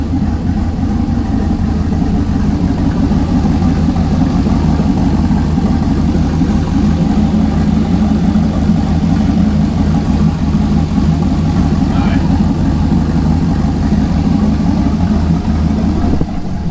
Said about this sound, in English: Oh, right now it's idling back up for some reason.